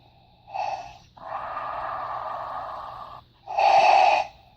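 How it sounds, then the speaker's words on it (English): A sound box plays Darth Vader's mechanical, electronic-sounding breathing in a steady loop: a harsh inhale, a long sustained exhale, then another inhale, loud and close with no talking. "this is just Darth Vader breathing constantly until you turn it off"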